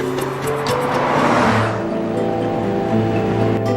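A Porsche Boxster sports car drives past on an open road, its engine note swelling loud and close, then settling into a steady, humming tone as it moves on, with no talk over it.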